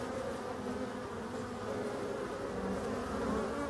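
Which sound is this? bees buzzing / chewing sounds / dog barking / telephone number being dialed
bees buzzing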